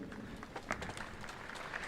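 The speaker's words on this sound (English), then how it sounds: "As applause rings out across the stadium" Applause fills a Men's Boulder final climbing stadium in Hachioji, a faint, distant, steady patter of many hands clapping that carries on throughout.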